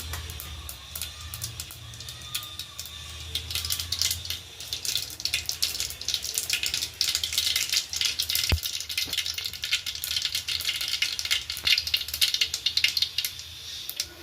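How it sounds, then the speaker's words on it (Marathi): Dense crackling and popping, rising in intensity as mustard seeds spatter in hot oil, with a brief sharp knock partway through. "छान अशी तडतड झाले का फोडणी बसते मस्त"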